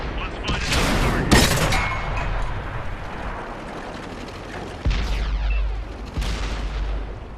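Tank cannon fire in World of Tanks from a Cromwell, heavy booming blasts with rumbling tails over a steady battle din, two to three big shots spread across the stretch.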